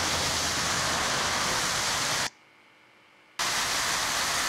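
Public art fountain in Chicago with a face that spits water: a loud, steady rush of splashing water, cut off abruptly for about a second of near quiet, then resuming at full strength.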